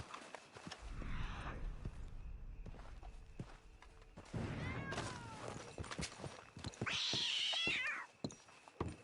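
A cat in Red Dead Redemption 2 meows loudly near the end, over quiet outdoor night ambience with soft footsteps and rustling earlier on.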